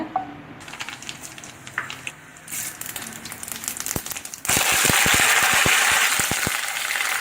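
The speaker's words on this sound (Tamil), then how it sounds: "எண்ணெய் காஞ்சோன்னு கடுகு பருப்பு போட்டு தாளிச்சுக்கோங்க" Mustard seeds and lentils crackle and pop in hot oil in a kadai on the stove, building from scattered snaps to a loud, dense sizzle close up.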